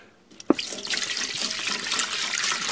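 Water poured from a container into an ultrasonic cleaner tank, starting with a sharp splash and settling into a continuous close pouring gurgle that fills the tank steadily.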